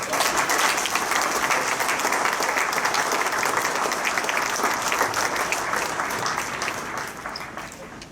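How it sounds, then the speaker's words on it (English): Crowd in a memorial hall applauding at a county sports hall of fame induction ceremony, loud sustained clapping from many people that tapers off toward the end. "Please hold your applause"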